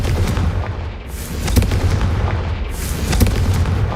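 Bombarda and Confringo spell blasts in the game Hogwarts Legacy land as repeated heavy booms and crackling bursts over a rumbling low backdrop, loud and close, several impacts in quick succession.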